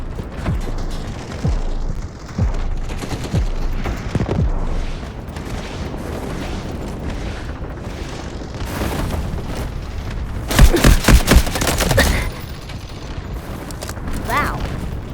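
Artillery barrage explosions in the Delta Force video game on a sandstorm-swept monument map: a dense run of heavy booms and rumbling blasts, loudest in a cluster near the end, with a player talking over parts of it.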